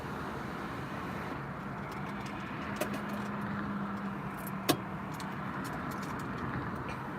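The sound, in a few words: traffic on a major street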